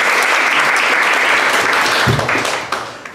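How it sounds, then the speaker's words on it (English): Applause from an audience after a show at a youth interfaith gathering, dense and loud clapping that holds steady and then thins out and fades near the end. "Let's give her one more round of applause for the beautiful show."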